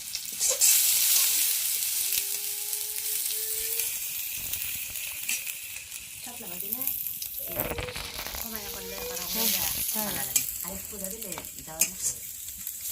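Onions go into hot oil for a curry after fish frying, a broad sizzle that swells and then settles, with talk and clinking utensils breaking in over the second half.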